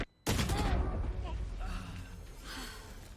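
Gunfire crackles in a match of an esports shooter, a sudden loud burst of shots that keeps rattling and slowly fades, with a commentator's voice layered over it.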